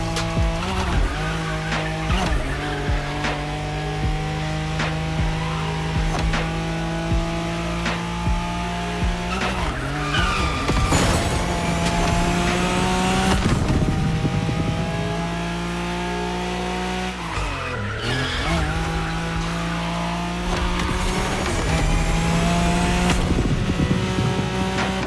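A Nissan Skyline races in The Crew Motorfest video game. The engine revs loudly through repeated gear changes, with long tire squeals and skids as it corners, close and continuous with no talk.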